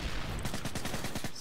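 Rapid automatic gunfire in Call of Duty MW3 multiplayer, a steady rhythm of about a dozen close, loud shots in quick succession.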